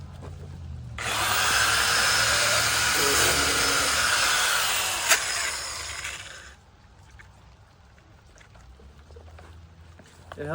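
Angle grinder grinding rusted metal on an old trailer during restoration, a loud continuous broadband hiss and whine running about five seconds before cutting off, followed by quieter clanks and handling noise.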